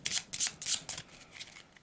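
A quick riffle-shuffle of an Arkham Horror encounter card deck, the orange Northside deck, rendered as a burst of crisp, papery card flutters in rapid succession, close and alone with no talking.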